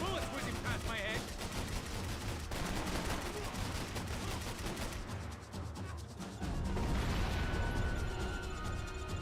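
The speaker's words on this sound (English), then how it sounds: "Bullets whizzing past my head!" Dense, continuous gunfire with bursts of automatic fire rattling throughout a Max Payne 3 firefight, loud and layered, with shouted voices in the mix.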